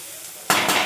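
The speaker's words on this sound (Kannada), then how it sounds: "ಚೆನ್ನಾಗಿ ಫ್ರೈ ಆಗಬೇಕು ಈರುಳ್ಳಿ ಎಲ್ಲ ಸಾಫ್ಟಾಗಿ" Onions hit a hot tempering pan for a cabbage gobi dish: after a quiet moment, a loud, sudden burst of sizzling and frying erupts and carries on briefly, close and alone.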